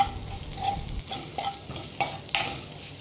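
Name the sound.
stirring roasted spice powder into frying okra (ladies finger)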